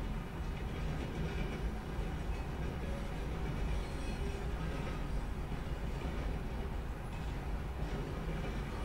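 Train ride in the video game Red Dead Redemption 2, a continuous rumbling roll of railroad cars with faint rhythmic clatter, steady and close, with no talking.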